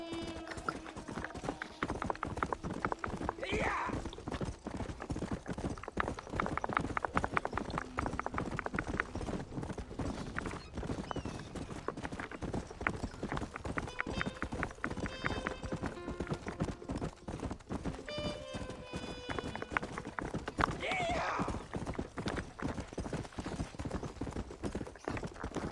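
Horse hooves clip-clopping steadily in Red Dead Redemption, a continuous fast rhythmic gait that carries loud and unbroken throughout, with an occasional snort or whinny.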